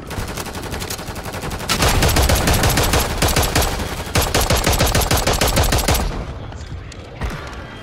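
Gunfire in the video game Warzone aimed at a helicopter, with dense, loud, rapid automatic bursts firing nearly nonstop before ending abruptly.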